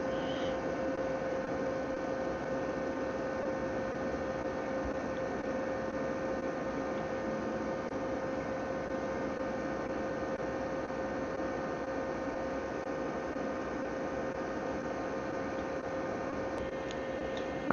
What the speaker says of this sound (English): That means the fan just kicked in,